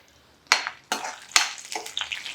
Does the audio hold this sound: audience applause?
no